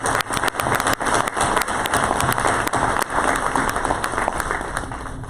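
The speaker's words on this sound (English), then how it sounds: "how about a round of applause for those visionaries" A crowd applauds at a hospital cancer institute oncology tower groundbreaking ceremony, with dense, sustained clapping and a few sharp louder claps standing out near the microphone, gradually tapering toward the end.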